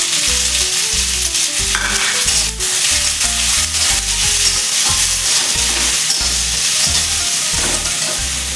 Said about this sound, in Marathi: थोडेसे जिरे ते खडे मसाले कांदा घालून घ्यायचा